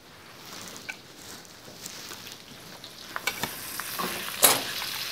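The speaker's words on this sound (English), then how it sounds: "put them in that bacon fat, the bacon chunks. Can hear them sizzling." Croquettes fry in bacon fat with bacon chunks, giving a soft, close sizzle. Crackles and pops grow louder toward the end, and a sharp spit breaks through near the close.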